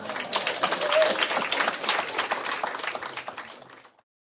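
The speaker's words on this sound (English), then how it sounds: "That's applause." Studio audience applause on a comedy panel show, dense and loud from the start, swelling then gradually tapering before stopping abruptly after about four seconds.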